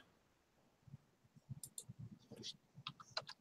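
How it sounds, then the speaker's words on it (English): Scattered clicks from a computer mouse or keyboard, faint and irregular, heard over a livestream connection with a few sharp ticks among them. "I hear clicking."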